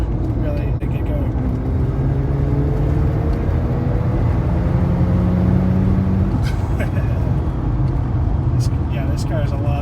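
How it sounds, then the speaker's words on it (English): The rotary engine of a 1994 Mazda RX-7 sports car drones under steady talk, its tone climbing in slow sweeps as the revs rise, fairly loud and close. "especially like the sound of this rotary engine, especially when you get into the higher RPMs"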